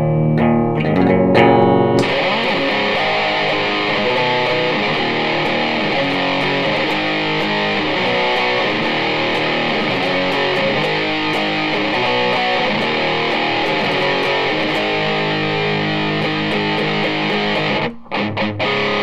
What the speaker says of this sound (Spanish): Vamos a escuchar el pedal en seco, nada de efectos.